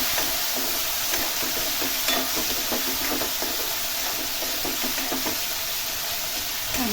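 Moong dal is stirred and sautéed over onions in a pan for a Maharashtrian dal methi bhaji. A spoon scrapes and knocks in a steady rhythm over a constant sizzle, close and without talk.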